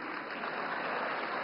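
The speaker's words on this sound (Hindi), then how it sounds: "हाँ, अब ताली बजी।" Applause from an audience at a political address on tax relief, a steady dense wash of many hands clapping continuously at moderate level with no talk over it.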